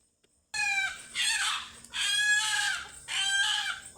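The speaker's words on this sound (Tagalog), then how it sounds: "May iyakin na manok." A chicken lets out three long, loud, wavering cries in a row, close up, with faint background noise between them.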